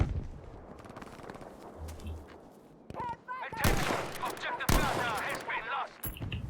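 Bursts of automatic gunfire and explosions from the video game Battlefield V crackle in irregular volleys, some loud and close, with faint talk mixed in.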